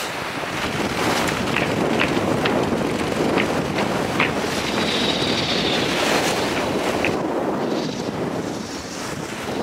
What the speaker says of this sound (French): Le vent est avec nous, j'espère que ça va durer.